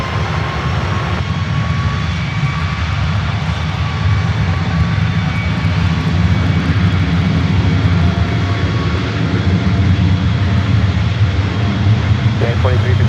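An Air Canada jet airliner takes off from runway 1 right at San Francisco airport, a steady, loud broadband roar that holds for the whole stretch while radio voices talk over it.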